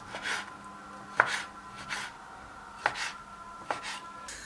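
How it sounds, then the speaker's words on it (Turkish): A knife dices mutton into small cubes on a board, a handful of soft thuds with scraping in between, close and fairly quiet. "Bunu da doğrayacağım."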